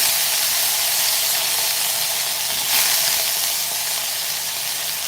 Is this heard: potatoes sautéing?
yes